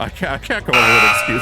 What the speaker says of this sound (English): that's the alarm for me to show the discs